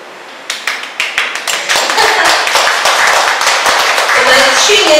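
A church congregation at a Sunday service claps. A few separate, sharp claps quickly build into dense, loud applause that continues to the end.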